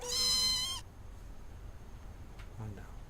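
A cat in the sci-fi video game Stardrop gives one loud, clear, tonal meow lasting under a second, followed by near silence and a brief faint sound.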